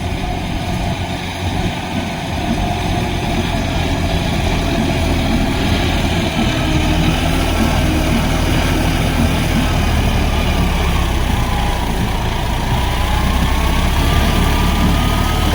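A John Deere 5310 4WD GearPro 55 hp tractor engine runs steadily while pulling a heavy 6.5-foot rotavator, a loud continuous low diesel drone with a constant pitch and no drop in revs.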